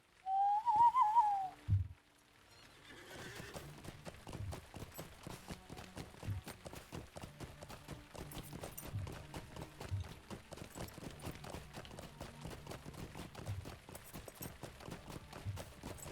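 A whistle rings out in LOTRO, then a horse's hooves clip-clop in a steady, quick rhythm, moderately close and continuing for many seconds without talk.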